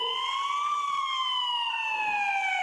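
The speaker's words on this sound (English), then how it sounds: "until I finally heard sirens in the distance." A police siren wails continuously, its pitch slowly rising then falling, heard at a moderate distance with no other sounds.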